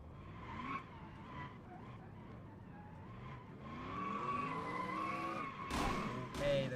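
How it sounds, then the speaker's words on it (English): Racing trucks at Daytona slide through a burnout in a racing video game, with a sustained engine drone rising into long tire squeals, and a voice speaking briefly over it. "Okay, the trucks are actually sliding."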